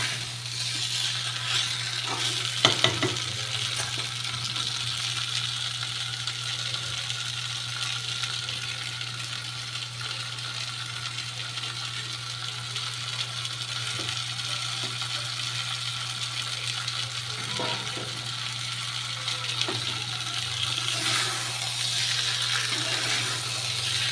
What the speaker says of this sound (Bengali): কপিটাকে একটু কষা কষা করে করব